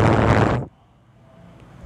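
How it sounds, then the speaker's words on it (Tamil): A creeper explodes in the Minecraft-style game Craft 3, a single loud, close blast that cuts off abruptly, followed by near silence. "இங்கே பார்த்தா க்ரீப்பர் வெடிச்சிட்டான்"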